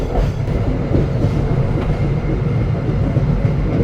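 Aboard the Malioboro Express pulling out of Klaten station at night, a loud, continuous rumble of rolling wheels and carriage noise fills the whole stretch with faint rhythmic clatter.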